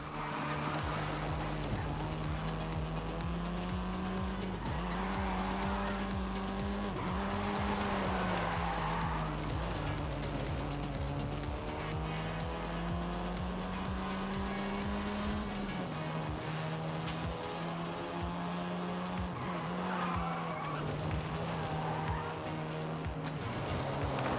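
Car driving in Forza Horizon 5 with a steady engine drone and shifting tone that rises and falls through the whole stretch, continuous and fairly loud, with no distinct skid audible.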